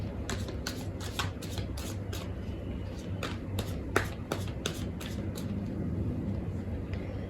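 Tarot cards being shuffled and drawn by hand, a series of quick crisp riffling snaps and slides close up, with a quiet background hum between them.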